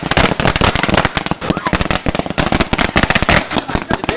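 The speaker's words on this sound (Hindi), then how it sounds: "पूरे गांव वाले यहाँ पे आटम बम लगा के जश्न मना रहे हैं।" Atom bomb firecrackers going off at a village celebration, a loud, dense barrage of rapid cracking bursts with no break, close by, and voices faintly underneath.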